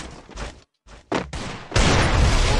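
Gunfire in the video game Free Fire: short bursts of loud shots broken by a brief silence, ending in a sustained roaring barrage.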